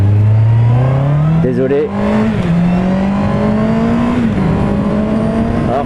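A 2019 Honda CB650R four-cylinder motorcycle engine revs loud and close, pitch climbing smoothly and then holding high with a steady, throaty whine. A brief spoken word sits under the engine.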